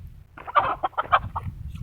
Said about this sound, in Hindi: ही मुर्गी, मुल्की मुर्गी है जो इनका लोग बहुत शौक करते हैं